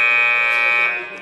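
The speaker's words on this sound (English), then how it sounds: "That buzzer was longer than usual" A basketball arena buzzer sounding to end the third quarter of a live league game: one loud, steady electronic tone held for over a second before fading away.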